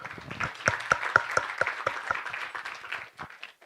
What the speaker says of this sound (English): allow me to ask us to clap for ourselves one more time